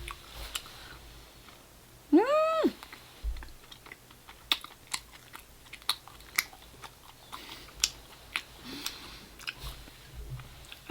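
Close, steady chewing of a sweet potato–filled treat, soft rhythmic bites and mouth sounds repeating every second or so, with a brief rising squeak early on.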